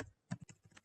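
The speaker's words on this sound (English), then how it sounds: "I will just go and type B Corporation" A handful of quick computer keyboard keystrokes, close and crisp, tapped in an uneven little burst with short gaps between presses, no voices.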